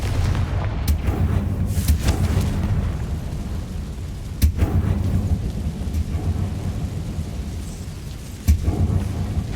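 A Confringo fire spell blasts in the Hogwarts Legacy video game, heard as sharp booming impacts spaced a few seconds apart over a constant loud rumbling background, with no talking.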